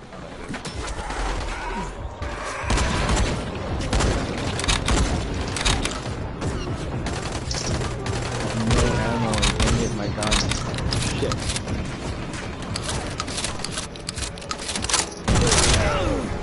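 Gunfire in a video game rattles in dense, repeated volleys with sharp cracks throughout, loud and close, while people talk over the shooting.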